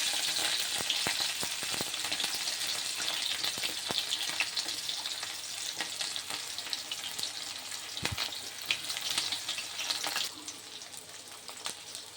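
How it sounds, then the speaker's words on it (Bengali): Green chillies, onion and garlic hiss in hot oil, a bright continuous sizzle with occasional clicks, easing off somewhat near the end. "তেলটা গরম হয়ে গেছে, আমি কাঁচা লঙ্কা, পেঁয়াজ, রসুন সব ছেড়ে দিলাম।"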